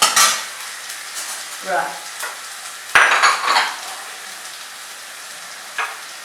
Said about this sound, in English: with the back of my spoon, I just like to help crush these tomatoes and chop them down.